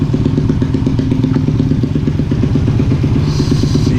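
Motorcycle engine idling steadily after warming up from a cold start, a loud, close, continuous low rumble with slight mechanical clatter and no voices.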